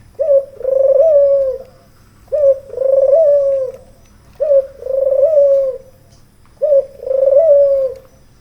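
Young dove chicks give repeated cooing calls, four evenly spaced rising and falling phrases, loud and close with nothing else over them.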